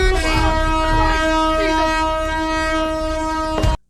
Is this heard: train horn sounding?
yes